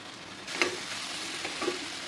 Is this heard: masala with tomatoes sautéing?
yes